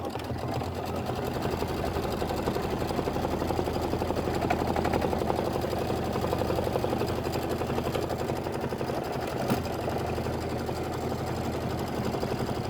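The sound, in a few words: embroidery machine stitching satin outline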